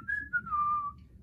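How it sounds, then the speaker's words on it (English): A person whistles a short falling tune in one breath, two or three gliding notes over about a second, close and clear against a quiet low hum. "He whistles"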